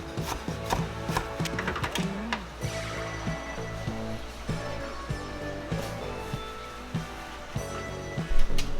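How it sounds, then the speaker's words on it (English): Vegetables for beef bourguignon roughly chopped on a board, heard as a run of close knife knocks and scraping strokes in an uneven rhythm, with a louder clatter near the end. "I just need to give this a rough chop"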